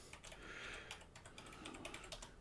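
Rapid, uneven clatter of keys on a computer keyboard, close and fairly quiet, with brief bursts and short pauses between keystrokes.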